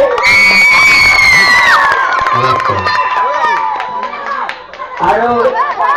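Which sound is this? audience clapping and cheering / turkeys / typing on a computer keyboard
audience clapping and cheering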